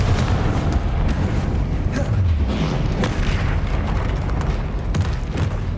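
Confringo spell blasts and other combat spells in Hogwarts Legacy, a continuous loud rumble of booming impacts and bursts with no clear gaps.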